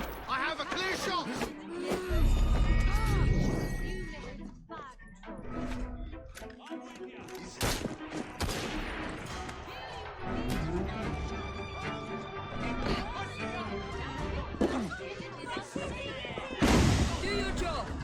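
Gunfire in Assassin's Creed Syndicate, with sharp bursts and thuds scattered through a busy scene of game music and effects, while voices talk over much of it.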